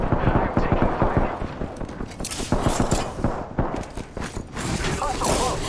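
Rapid bursts of gunfire crackle through a battle royale shootout, with repeated close shots and volleys alongside game voice lines and talk.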